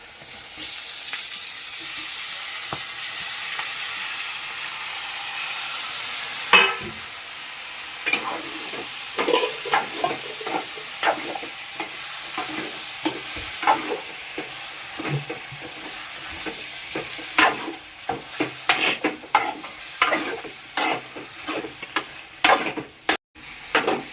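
Tomatoes frying and being stirred in a pan with turmeric in a village kitchen: a steady sizzle runs throughout, broken by repeated scraping and clattering strokes of a spoon against the pan that grow more frequent toward the end.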